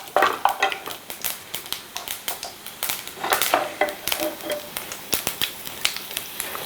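Spices crackle and pop in hot oil while powdered asafoetida goes in, a dense run of sharp close sputters and crackles for Indian-style vegetable bonda.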